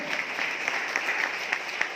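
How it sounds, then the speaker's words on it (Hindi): A seminar audience stands and claps for a speaker, a steady mid-level patter of many hands with a few louder individual claps, continuous and without speech. "एक बार खड़े हो जाएंगे सुधीर जी, जोरदार ताली करेंगे"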